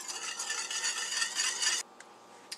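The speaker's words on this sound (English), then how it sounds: "I'm just going to whisk this until this is, until the sugar's dissolved." Sugar being whisked into white vinegar in a bowl for coleslaw dressing: a rapid, close scraping swirl for about two seconds, then it stops, leaving near silence and a faint tap.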